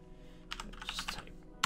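Computer keyboard typing in a quick burst of several close, crisp key clicks, with no talking.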